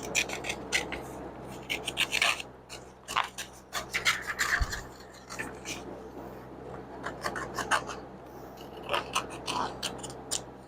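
Scissors snip through a paper template for a Pontiac Firebird 400 aftermarket hood emblem, close and uneven, with rasping cuts and paper rustling in irregular bursts.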